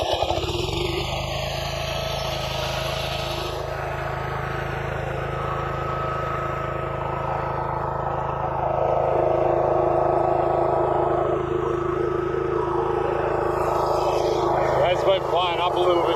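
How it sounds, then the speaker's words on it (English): A balky motor restarts and settles into a steady droning run, a continuous mid-pitched hum that grows slightly louder partway through, with people talking over it in cold conditions. "It's been playing up a little bit, this motor, when you restart it."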